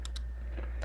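Typing on a MacBook Air keyboard, a few quick soft key clicks in a short burst, close and quiet.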